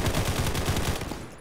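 Gunfire in a Turkish shooter game on PC and mobile, a rapid, dense automatic burst that is loud and close, then thins out near the end.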